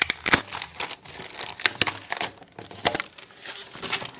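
Yellowed leaves are torn off a houseplant by hand, a close series of sharp crinkling, snapping rips in irregular bursts, with no speech.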